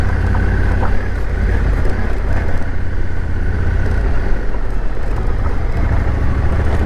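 Motorcycle ridden off-road through the middle of a town, a steady close engine drone with rough low rumble throughout, mixed with road and wind noise and no talking.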